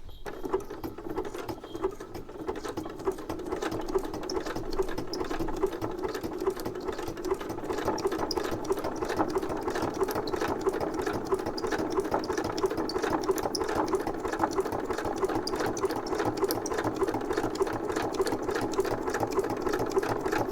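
Sewing machine stitching fabric tags, a steady rapid mechanical chatter running continuously and close at an even pace.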